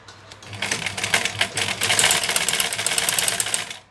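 A black sewing machine threaded with jeans thread stitches drill fabric, a loud rapid mechanical clatter that speeds up and runs continuously for several seconds, with no talking.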